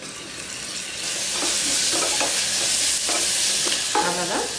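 Ginger garlic paste frying in a pan for mutton pepper fry, a steady close sizzle with stirring scrapes and clatter, no talk.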